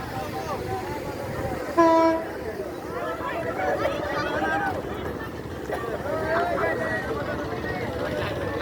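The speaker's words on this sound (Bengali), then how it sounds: "ট্রেন আসতেছে" A train rumbles steadily past at close range near the Kudda bridge in Akhaura, with a brief horn blast near the start and voices talking over the noise.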